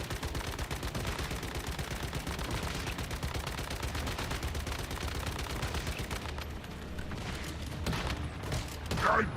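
Sustained rapid gunfire in the video game Once Human, a dense stream of close, loud shots running almost the whole time, thinning briefly before a final burst.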